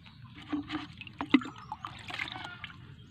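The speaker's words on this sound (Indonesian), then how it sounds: "kita siram dulu pakai air secukupnya ya" Water poured from a scoop onto a Cavendish banana seedling gives soft, quiet trickling and splashing over about three seconds, with a faint voice underneath.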